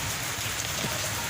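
Steady rain falls on a rural village setting, a dense, even hiss of drops on surfaces that continues without break and without any voices.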